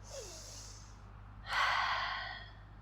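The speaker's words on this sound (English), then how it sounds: "Take a deep breath and breathe out." A slow, deep breath drawn in during a school garden lesson, followed by a louder, fuller exhale, close and alone with no talking.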